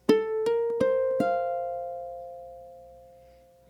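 A ukulele plays a short run of four plucked notes in quick succession with the ring finger held planted on the third string; the last note rings on and decays slowly, close and solo.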